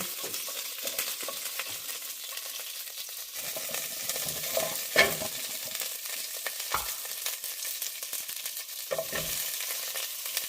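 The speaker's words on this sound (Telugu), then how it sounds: "ఆయిల్లోకి మనము చెక్క, లవంగాలు, మిరియాలు, బండపువ్వ ఇది లైట్గా ఫ్రై అవ్వగానే" Whole spices, namely cinnamon, cloves, peppercorns and stone flower, sizzle in hot oil with a steady soft crackle, broken by occasional stirring clinks and scrapes. No voices.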